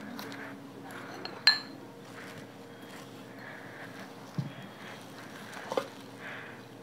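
Ceramic tea set plates being unpacked give off three sharp clinks, spaced a few seconds apart, over a quiet room background.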